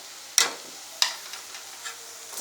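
A spatula strikes and scrapes a pan twice, sharp and close, as prawn masala with salt and pepper powder sautés over a faint, low sizzle.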